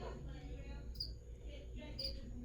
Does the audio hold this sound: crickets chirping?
yes